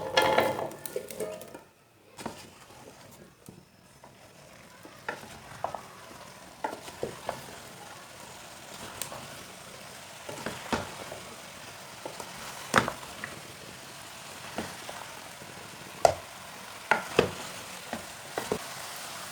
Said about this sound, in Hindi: इसे 1 मिनट भून लेंगे।